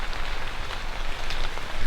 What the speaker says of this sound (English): it's raining like crazy right now, or it was